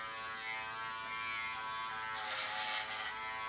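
Andis Essential hair clipper running at 8,500 strokes per minute, a steady close electric buzz with a sharper, brighter rise for a moment as the blades meet hair.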